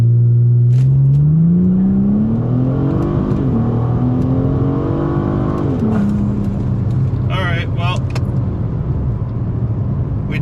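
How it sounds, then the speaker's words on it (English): A Ford Taurus SHO launches hard with boost, its engine revving up through rising gear pulls and shifts, loud and close from inside the car, with people talking over it. "we're gonna give it a nice healthy amount of boost on the launch"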